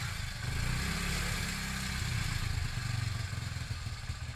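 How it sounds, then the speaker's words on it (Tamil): Hero Splendor Plus motorcycle engine idling after start-up to warm up, a steady low mechanical putter with light clatter, close and continuous throughout. "வண்டியை வந்து இப்போ ஸ்டார்ட் பண்ணியாச்சு."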